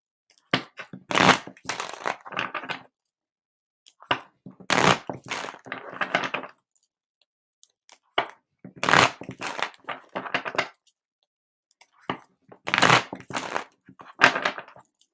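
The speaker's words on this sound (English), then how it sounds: "Get a couple more shuffles in, and we will get started." Tarot cards are shuffled in four separate bursts, each a dense riffling and snapping of cards lasting about two seconds, separated by brief silences, close and clear with no talking.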